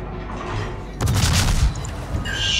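Warship guns fire in World of Warships, a heavy boom erupting about a second in with a rolling low rumble and broadband blast, over continuous game ambience and scattered later explosions.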